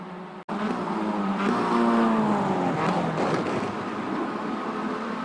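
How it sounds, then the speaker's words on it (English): Simulated race cars in iRacing roar past with engines and tire noise, a steady loud motor drone with shifting pitch as cars make contact and slide into the wall, with no voices. "Car-to-car contact sends 2 in the wall."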